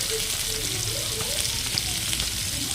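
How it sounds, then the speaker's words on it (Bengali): Ingredients for mango chutney with turmeric fry lightly in a pan, giving a soft, steady sizzle with faint stirring scrapes, continuous and fairly quiet throughout. "একদম হালকাভাবে ভেজে নিচ্ছি"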